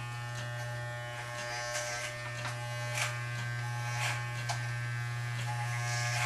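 Electric hair clippers fitted with a number 2 comb buzz steadily while cutting short blonde hair close up, a continuous motor hum with soft brushing strokes as the blade passes through.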